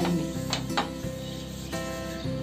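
Water sizzles on a hot non-stick tawa while mung bean dosas are prepared, producing a steady, close hiss that swells and settles a few times over a couple of seconds.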